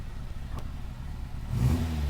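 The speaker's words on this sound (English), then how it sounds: "Let's have a listen to the exhaust note. Give us a blip." A 930cc Hillman Imp engine on Weber carburettors idles faintly, then a short throttle blip near the end brings a louder, rising exhaust rasp.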